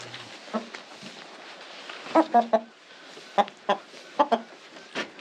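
Chicken held in someone's hands on a village farm, letting out several short, sharp clucks in scattered bursts, close and fairly loud over quiet background with faint human presence.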